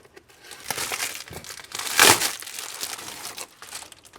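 Plastic packaging of a new Honda CBF125 motorcycle battery crinkles and rustles as it is pulled open, with a louder tearing crunch in the middle, close up and without voices.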